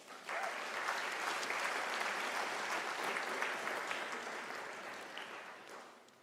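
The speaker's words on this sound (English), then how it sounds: "Can we give an applause to that?" Audience applause fills a University of South Africa autumn graduation ceremony, a steady sustained clapping from a large crowd that holds evenly for several seconds before tapering off toward the end.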